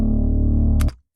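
A clean, undistorted bass from a trap beat holds one deep sustained note alone, then cuts off abruptly with a short click.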